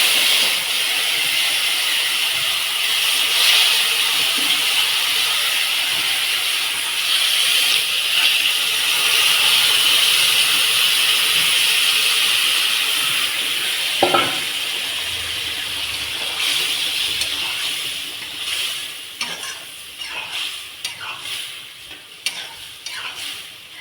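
Chopped bottle gourd for a vegetarian curry hitting a hot oiled pan, producing a loud steady sizzle and hiss that runs on for over twenty seconds, with occasional stirring scrapes and clinks.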